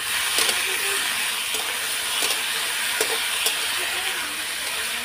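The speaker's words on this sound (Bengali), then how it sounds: "আলুগুলো একটু লাল লাল করে ভেজে নেব, ভেজে নিচ্ছি" Cut potatoes fry in hot oil, a loud, continuous close-up sizzle and hiss with occasional soft taps from stirring and no one speaking.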